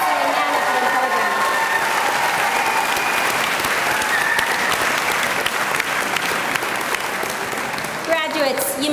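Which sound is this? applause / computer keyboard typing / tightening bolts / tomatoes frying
applause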